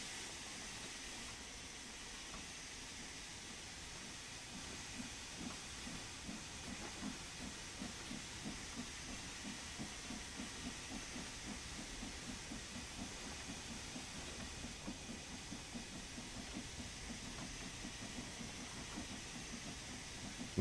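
Steam hisses steadily from the opened cylinder cocks of a steam locomotive in Train Sim World 2, a broad continuous wash with a soft rhythmic chuffing pulse beneath it, at moderate level with no voices.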